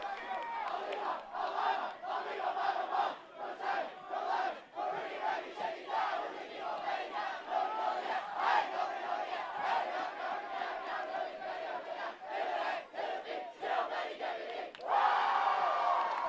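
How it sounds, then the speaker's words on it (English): Peddie School cross-country team chanting a loud pump-up cheer as a group, a dense crowd of voices shouting in rhythmic bursts for about sixteen seconds, with a final louder surge at the end. "you get to see the pump-up cheer for the Peddie cross-country team"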